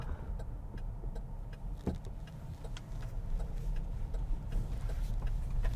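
A Chevrolet Bolt EUV electric crossover on winter tires drives at night, and its cabin carries a steady low road rumble with light, sparse ticking over it, with no talk.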